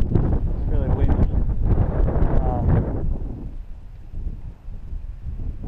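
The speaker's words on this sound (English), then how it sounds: "Ooh, it's really windy." Strong wind buffets the microphone in loud, rumbling gusts, easing slightly partway through; a voice speaks faintly over it early on.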